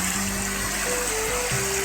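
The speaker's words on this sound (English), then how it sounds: "මේ තමයි කළුතර දිස්ත්‍රික්කයේ සුන්දරම දියැල්ල තුඩුගල ඇල්ල." Tudugala waterfall in Kalutara district roars in a steady, dense rush of falling water, continuous and close, with a faint low hum running beneath and no voices.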